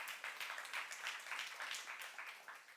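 Church congregation applauding during a youth service sermon, a faint, fairly quick patter of many hands with slight rises and dips.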